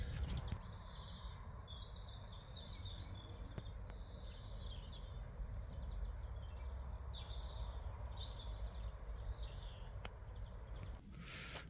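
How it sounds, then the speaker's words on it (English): Faint birdsong outdoors on a countryside hike on the Tillford Medieval Circular route, scattered chirps and short song phrases over a quiet steady background hum, no talking. "It's good to hear the birds out."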